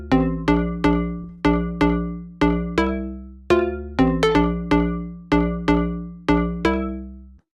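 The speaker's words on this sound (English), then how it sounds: "how to make selected style deep house massive patches" A deep house synth patch built in the Massive synthesizer plays a plucky, bell-like chord stab repeated in a syncopated rhythm, each hit decaying quickly, loud and close with no talking.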